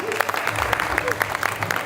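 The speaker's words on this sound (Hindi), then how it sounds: "मुनमुन दत्ता जी के जोरदार तालियां" Lively applause for actress Munmun Dutta at a stage event, with distinct individual claps popping out of the crowd and a voice talking underneath.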